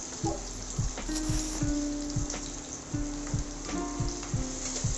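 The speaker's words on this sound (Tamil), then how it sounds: "நல்லா வதக்கிக்கலாம்." Egg masala with curry leaves and onions sizzles in a frying pan with a constant close crackle, while a spatula scrapes and stirs in a steady repeating rhythm.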